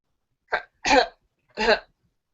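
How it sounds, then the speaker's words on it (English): Three harsh coughs, one short and then two fuller ones, close and loud, separated by brief silences. "Is that you coughing?"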